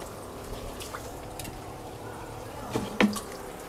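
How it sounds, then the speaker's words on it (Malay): Tap water dribbles into a lobster tank, faint background trickling punctuated by a few soft drips and a couple of sharper splashes near the end. "Saya akan tutup air ni."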